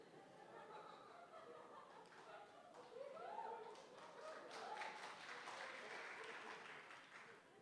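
A church congregation at a worship service in Bekasi breaks into faint applause mixed with light laughter and chuckling, the clapping swelling midway and then lingering at a soft, distant level.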